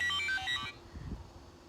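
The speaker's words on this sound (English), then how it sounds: "let me turn off my phone" A mobile phone ringtone plays a bright repeating melody for under a second, then cuts off abruptly, leaving low room noise and faint handling sounds.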